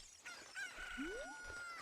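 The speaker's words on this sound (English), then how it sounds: "we're looking for the Cuckoo" A Cucco chicken crows in Zelda Ocarina of Time 3D, giving a single clear rooster call with a rising cluck, fairly faint and alone over quiet game ambience.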